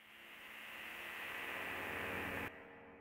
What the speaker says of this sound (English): That's the little riser that happens every so often, a bit of a build-up.